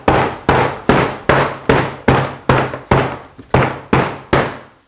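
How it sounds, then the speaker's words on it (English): A hammer strikes polyurea-coated foam on an asbestos roof again and again, giving about eleven loud, evenly spaced thuds, each with a short decaying ring, close to the microphone and with no talk. "So now we take a hammer and we're going to give it a couple of digs"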